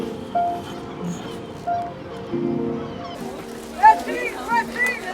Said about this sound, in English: Just a flock of birds.